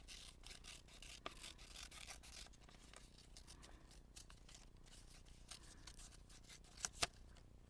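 Scissors snip through paper while a book is altered into a journal, a run of faint, quick, close-up cuts and rustles with a couple of sharper snips near the end.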